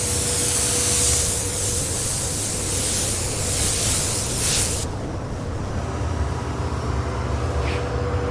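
Spray gun laying base coat on a Mazda panel in a tri-stage 25D paint job, a loud steady hiss of air and atomized paint that cuts off abruptly partway, leaving quieter booth noise.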